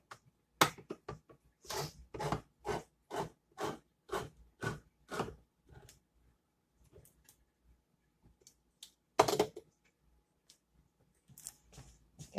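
Cans of diced tomatoes being opened for a vegetable soup, a run of close, evenly spaced metallic cranks and scrapes from a can opener, then a pause and a few scattered clicks and handling noises.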